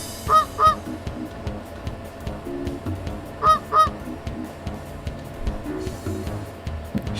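A farm goose honks in short paired calls that repeat a few times, moderately loud over a low background rumble, with no talking.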